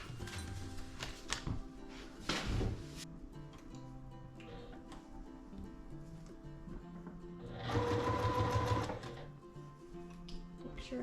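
A sewing machine stitches quilt pieces along a seam line, with short bursts of loud mechanical whirring around the third and eighth seconds amid quieter handling sounds.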